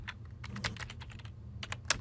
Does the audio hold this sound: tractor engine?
no